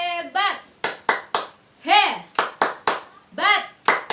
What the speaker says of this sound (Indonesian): Yuk kita beri tepuk hebat dulu.